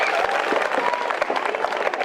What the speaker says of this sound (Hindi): तालियां नैना के लिए।